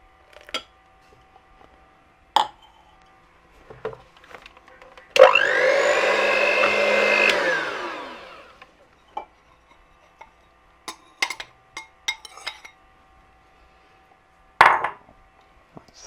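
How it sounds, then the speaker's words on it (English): Muffin batter being stirred in a bowl on a narrowboat, with scattered clinks and scrapes of the utensil against the bowl and one longer whirring burst partway through. "Mixing really well."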